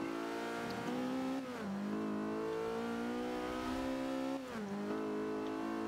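A race car in Forza Motorsport 5 at Silverstone accelerates hard, its engine droning loud and steady with two rising shifts in pitch, no talk over it.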